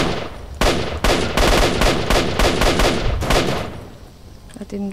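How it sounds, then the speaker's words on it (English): Light cannon fire in the video game S.T.A.L.K.E.R. Shadow of Chernobyl: a loud, rapid string of sharp shots in uneven bursts over about three seconds, then fading into quieter game noise. "Oh, it's a light cannon."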